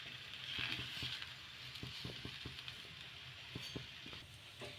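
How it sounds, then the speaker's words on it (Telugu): Rumali paratha laid on a heated pan with a little oil, frying with a steady soft sizzle and scattered light taps and crackles, close and quiet. "ఇలా పెన్నం వేడెక్కిన తర్వాత కొంచెం ఈ విధంగా కొంచెం నూనె అయితే వేసుకొని ముందుగా మనం రుద్ది పెట్టుకున్న ఈ పరాటాని అయితే వేసుకోవాలి."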